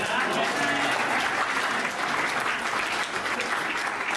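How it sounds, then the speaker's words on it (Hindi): An audience claps in sustained, dense applause at a comedy poetry performance, loud and continuous with a faint crowd murmur. "अभी रुको, तालियां तो अब बजेंगी।"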